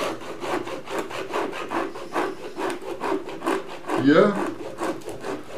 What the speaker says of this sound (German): Einfach ansetzen und ohne und viele kleine Sägebewegungen machen und ohne Kraft